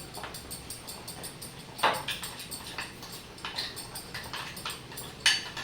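Spoon stirring masala into paneer in a bowl: soft, faint scraping and clinking in a steady rhythm, with a couple of louder taps against the bowl, no talking.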